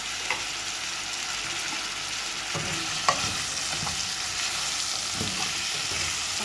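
Celery sautés in a pan with golden-brown garlic for a vegetable soup, a steady close sizzle with occasional scrapes and clunks of stirring, no voices.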